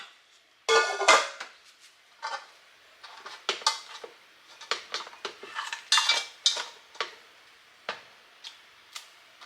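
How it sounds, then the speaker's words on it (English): A seafood boil is moved from one pot to a bigger pot, heard as close, sporadic clinks and clatters of utensils against metal pots in quick irregular bursts, with no talking. "I'm gonna transfer everything over from that pot into this one, only because it's bigger"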